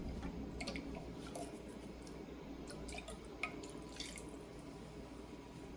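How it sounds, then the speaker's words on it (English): Water trickling and dripping inside a metal can as it is rinsed out, faint close splashes and sloshing with a few sharper clinks, no talking. "just gonna get a little bit of water and rinse that out"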